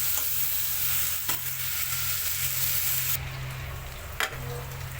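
Ground spices and onions sizzle steadily in hot oil in a pan while being stirred, a continuous close frying hiss with a couple of sharp scraping clicks.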